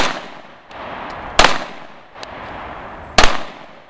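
Two sharp handgun shots from a Sig Pro 2009 at an outdoor practice range, spaced nearly two seconds apart, loud and close, with fainter distant reports from other shooters in between.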